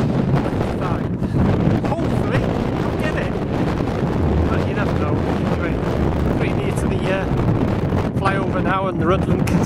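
Strong wind buffets the microphone on a coastal walk between Rhuddlan and Rhyl, a loud continuous roaring rush with gusty surges throughout, and a person speaks intermittently over it.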